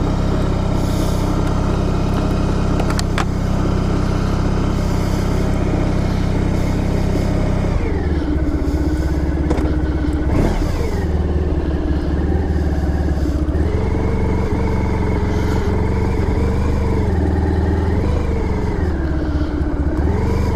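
A 1994 Honda ST1100 touring motorcycle heard steadily from the rider's position, its engine droning continuously with shifts in pitch as it changes speed, wind noise running throughout the ride.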